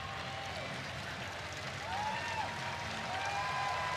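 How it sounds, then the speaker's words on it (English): Filipino basketball fans applaud their national team late in a FIBA Asia Cup game against Australia, a steady, distant crowd wash of clapping in a large arena with no clear talk. "Gilas fans applauding their national team."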